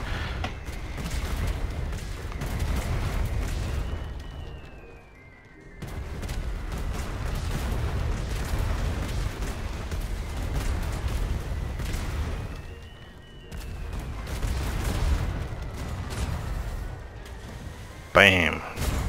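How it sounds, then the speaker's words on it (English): Repeated booming galleon cannon blasts in the video game Atlas roll in heavy waves, loud and rumbling, with a short sharp burst near the end and voices talking over it. "My cannons do more damage."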